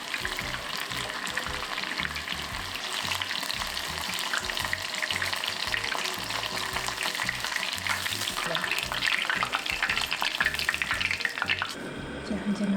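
Shiitake mushrooms deep-frying in hot oil give a dense, steady sizzle and crackle that fills the clip at constant loudness, easing slightly in the last second.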